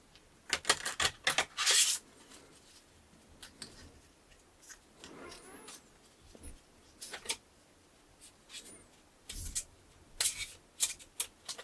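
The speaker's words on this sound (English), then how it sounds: "it's a little tough to shuffle these well" Tarot cards being shuffled by hand at a table, irregular bursts of crisp riffling and slapping clicks with pauses between them, close and distinct, no voices.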